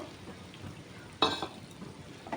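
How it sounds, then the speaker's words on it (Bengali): Capsicum is stirred in a frying pan under a low, soft sizzle, with one brief scraping clatter of the spoon partway through. "ক্যাপসিকাম দিয়ে নাড়াচাড়া করব"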